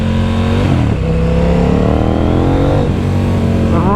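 A 2020 KTM Duke 890R motorcycle accelerates hard on a cold road, its engine note loud and close, climbing steadily through the gears with rising pitch and brief dips at each shift.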